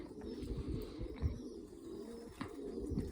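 Soft, low pigeon coos repeat in the background near a pigeon loft, quiet and somewhat distant, with faint rustling between calls.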